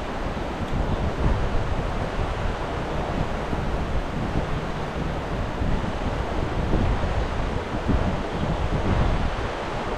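Rushing water roars steadily, a broad, loud wash of noise with some wind buffeting, continuous throughout and without voices.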